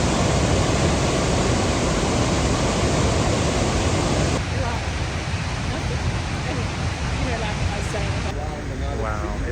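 Thunderous, steady roar of the main falls at Victoria Falls, a loud unbroken rush of falling water close by, easing slightly partway through.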